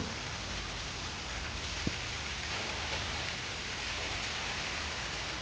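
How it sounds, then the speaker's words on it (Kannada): Steady, dense rain hiss fills the whole stretch at an even level, with one brief sharp tick near the middle. "ವಿಪರೀತ ಮಳೆ"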